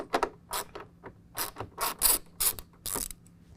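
Quick clicking bursts of a ratchet loosening the 9/32 front fender flare bolts on a 2017 Ford F-150, several short rapid pawl rattles separated by brief pauses, close and crisp with no talking.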